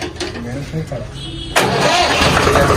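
A tractor engine cranks with a rough churning starter sound, then catches and settles into a loud, steady diesel running noise up close, with people talking nearby.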